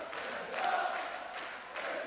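A partisan darts crowd at the 2019 European Darts Grand Prix sings and chants together in a dense, sustained roar, swelling in waves across the hall.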